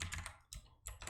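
Typing on a computer keyboard while writing code, a quick run of close clicking keystrokes, a short pause, then another burst of keys.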